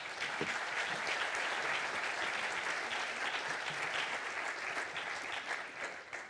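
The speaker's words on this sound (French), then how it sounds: "On peut applaudir." An audience applauds at a wine and climate conference, sustained steady clapping from a large crowd that fades slightly toward the end.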